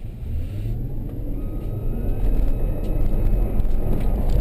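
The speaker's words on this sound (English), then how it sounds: "step on the accelerator and hit maybe 30 miles an hour" A car accelerates to about 30 miles an hour, its engine and road noise building steadily and growing louder over a few seconds, heard up close with no talking.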